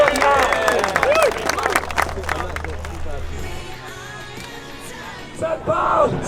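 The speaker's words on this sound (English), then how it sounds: "Let's have a round of applause" Applause from the audience at a car show auction at the Retro Rides Weekender, a dense patter of clapping and crowd noise, with an amplified voice talking over it at the start and again near the end.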